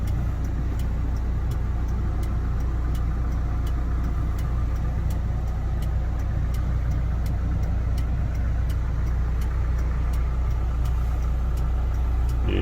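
A 2020 Kia Bongo 3 truck idles while its engine warms up, giving a steady, close low drone with a faint regular ticking. The sound stays even throughout, with no voices.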